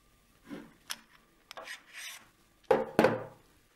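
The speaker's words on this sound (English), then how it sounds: "Now let's remove it from the mount." A swivel unit with a rotation lock is pulled off a wheelchair mount, giving short scraping and rubbing sounds in separate bursts, quiet at first and then two louder grinding scrapes near the end, with no talking.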